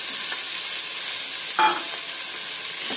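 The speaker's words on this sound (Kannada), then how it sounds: "ಇದು 1 ನಿಮಿಷ ಫ್ರೈ ಮಾಡಿ." Masala for maskayi soppu saru fries in a pan with a loud, continuous sizzle. A brief stirring scrape stands out partway through, with no talking.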